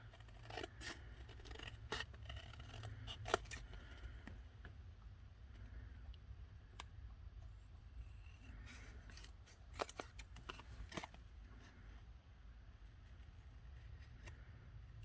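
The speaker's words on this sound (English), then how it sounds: "I'm going to take my scissors, and I'm going to cut this out." Scissors snip through paper in a series of short, crisp cuts, close and quiet, with brief pauses between bursts over a low background hum.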